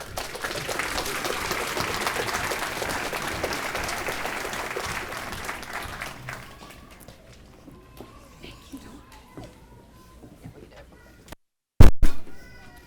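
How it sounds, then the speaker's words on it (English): An elementary school audience gives a round of applause at the school's 50th anniversary celebration: dense, loud clapping for about six seconds that thins into scattered claps and then near silence, ending with a short sharp knock. "Would you guys please give a round of applause for Ms. Sarah McMurrough?"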